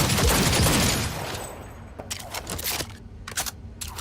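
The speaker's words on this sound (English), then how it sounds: "Minigun." Rapid, dense burst of minigun fire from the Cyberpunk 2077 video game, loud for the first second and a half, then trailing into scattered sharp shots and clicks as the barrage dies down.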